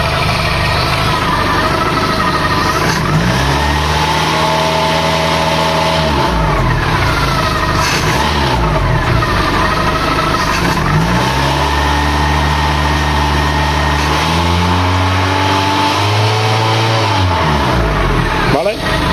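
A car engine fitted with a Pierburg 2E carburetor that idles unevenly, revved in a few rising and falling bursts over a steady idle, with someone talking close by.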